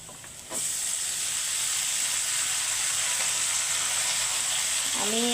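Red spinach hits hot oil for direct tempering, bursting into a loud, continuous sizzle that stays steady, with a brief stir scrape near the end.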